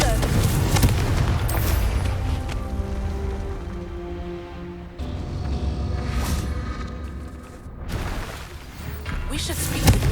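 Confringo spell explosions in the Hogwarts Legacy video game, with several booming, crackling blasts breaking through a noisy combat soundscape with tonal music, the loudest bursts near the start, the middle and the end.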